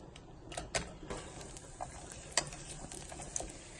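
Walnuts and raisins fry in warm ghee with a soft continuous sizzle, marked by scattered clicks and light spoon taps, close and quiet with no talking.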